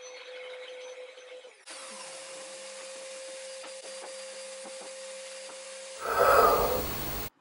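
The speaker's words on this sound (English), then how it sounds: "cutting down the legs of an IKEA lock table" Scheppach HMS 850 saw cutting down the legs of an IKEA Lack table, with a steady motor hum and whine under a cutting drone, rising into a louder rasping burst near the end before stopping.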